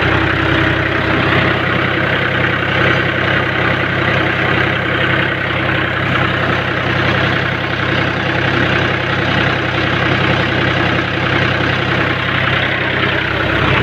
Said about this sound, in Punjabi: ਟਰੈਕਟਰ 265 ਹੈ, ਕੋਈ ਜ਼ਿਆਦਾ ਚੱਕਰ ਨਹੀਂ ਜੀ ਇਹਦੇ